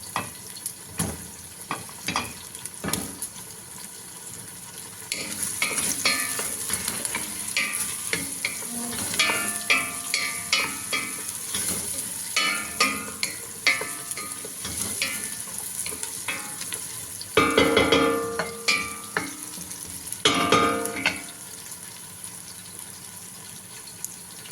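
Potato pieces crackle and sizzle in hot frying oil while cooking for laham kabsa majboos. The frying is loud and continuous, with busy popping that swells in a few stronger bursts and no voices over it.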